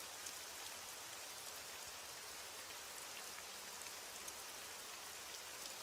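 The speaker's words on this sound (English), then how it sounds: "As the rain falls and the night deepens" Steady, quiet rain falling at night, a soft continuous hiss of drops on surfaces with no voices, even and unbroken throughout.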